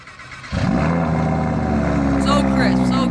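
A car engine in the Roblox game Driving Empire starts up with a sudden catch after a quiet moment, then settles into a loud, steady rumbling idle with a harmonic drone and slight revving.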